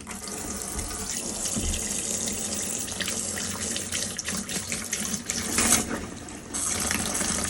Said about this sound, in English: This is just showing your water system working, and your water is getting up the temperature there